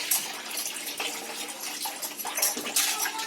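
Soaked rice is swirled and washed by hand in water, giving steady sloshing and splashing with small gushes, close and moderately loud, with no talking.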